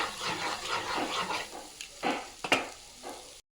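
Spices and capsicum powder being stirred and sautéed in a pan for butter chicken: scraping strokes and a soft sizzle, with a few sharper utensil knocks near the end before it cuts off.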